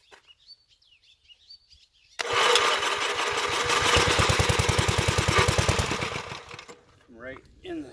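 A Gravely L walk-behind tractor engine catches after two seconds of quiet and runs loud and close with a rapid, rough, steady chugging for about four seconds, then dies away. Faint birdsong is audible before and after.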